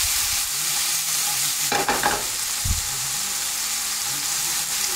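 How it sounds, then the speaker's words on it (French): Onions or aromatics sautéing in a pan for an oeuf meurette red wine sauce, a steady low sizzle with a couple of brief stirring scrapes, close and alone without talk. "Alors, on fait revenir ça."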